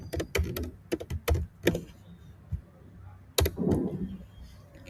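Computer keyboard keys clatter in quick irregular bursts of clicks, close and fairly loud, with a pause before another short flurry of typing.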